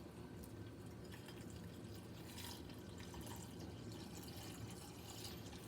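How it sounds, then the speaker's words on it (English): Water running steadily into a bowl for microwave oatmeal, a faint continuous filling rush with slight splashy texture throughout, no voices. "Put as much water as you think is needed in there."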